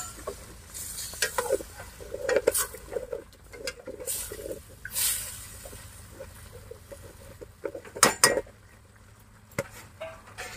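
Two spoonfuls of homemade ginger paste sizzle in a hot pan for a chicken curry while a spoon stirs it, giving a crackling hiss broken by irregular scraping and tapping strokes close by.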